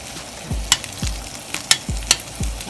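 Peppers and onion dropped into a sizzling pan for corned beef hash, with several quick stirring scrapes over the frying, close and clear.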